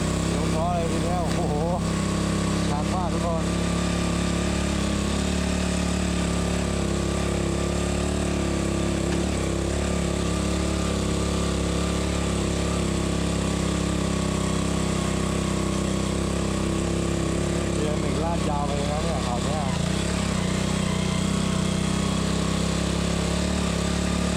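A motorcycle engine labours steadily in first gear up a long slope on the way to a waterfall, a continuous loud droning hum with little variation, close and dominant, with faint voices briefly audible beneath it.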